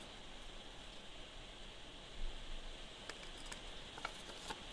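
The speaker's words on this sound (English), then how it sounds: "Oh, rain's really starting. I wonder if you can hear that now." Rain beginning to fall outdoors, a faint, even hiss with a few scattered soft patters near the end, heard from indoors at low level.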